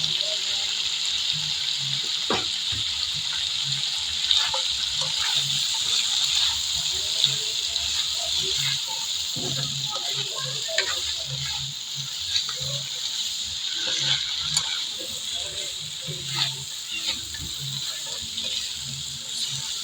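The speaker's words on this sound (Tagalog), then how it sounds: "Lulutuin lang natin yung ating gulay." Thinly sliced carrots and beans sizzle in a pan during a dry stir-fry, a steady hiss with scattered clinks and scrapes of stirring, as someone talks now and then.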